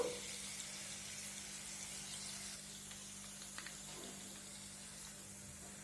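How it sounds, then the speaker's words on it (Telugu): Garlic chicken frying in a hot pan with soy sauce added gives off a steady, close sizzle and hiss that holds even for the whole stretch, with a faint stir near the end. "ఇందులోకి మనం సోయా సాసు ఒక రెండు టేబుల్ స్పూన్లు వేసుకుందామండి"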